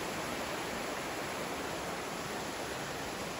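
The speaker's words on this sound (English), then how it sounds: "there's the creek again." Steady, even rush of flowing water from a nearby creek, continuous and fairly loud with no breaks or other sounds.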